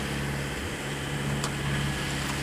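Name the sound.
sailboat engine motoring in calm seas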